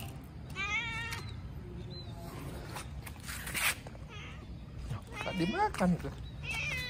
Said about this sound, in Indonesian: Ada kucing.